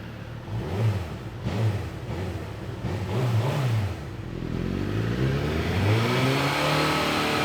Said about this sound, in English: That engine sounds pretty good though.